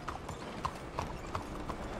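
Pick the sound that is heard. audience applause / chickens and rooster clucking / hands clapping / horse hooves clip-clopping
horse hooves clip-clopping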